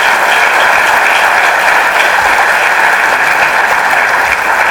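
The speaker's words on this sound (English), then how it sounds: "can we give a collective thunderous applause for all of them?" An audience at the 34th Priyadarshni Academy Global Awards applauds the awardees. Dense, loud clapping holds steady and unbroken throughout, with no speech.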